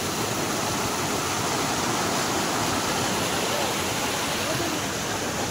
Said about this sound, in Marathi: नदी आहे समोर.